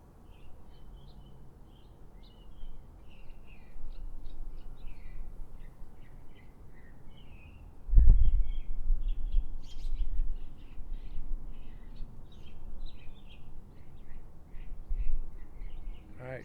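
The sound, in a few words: birds chirping outdoors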